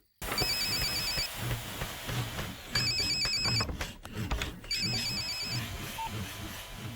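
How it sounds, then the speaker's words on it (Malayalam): A telephone rings in a Kerala home, three bursts of a bright electronic ringtone spaced across the span with brief gaps, fairly loud over a low room murmur, with no speech. "പ്രേമ പ്രേമ, നിനക്കൊരു ഫോൺ"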